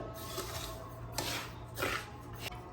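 Rice flour dough for pidi is mixed by hand in a bowl, producing a few soft rubbing, scraping strokes over a low steady background hum, close by with no talking.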